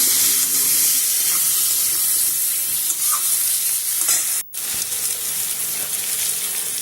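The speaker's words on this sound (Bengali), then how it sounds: "আমি এঁচোড়টাকে লবণ আর হলুদ দিয়ে ভালো করে ভেজে নেব" Young jackfruit frying in oil with salt and turmeric, a steady close sizzle with occasional stirring scrapes and one very brief dropout near the end; no voices.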